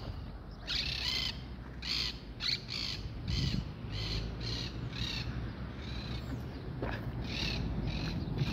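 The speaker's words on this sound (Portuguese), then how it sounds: "Olha esse periquito." Parakeets at a rural country property give repeated shrill, raspy squawks in short bursts across the whole stretch, fairly close and loud, with a constant outdoor background and no talking.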